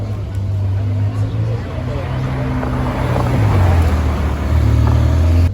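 Supercars driving through the streets of Toulouse give a steady, close engine drone with low rumbling tones. It holds for several seconds and swells slightly toward the end.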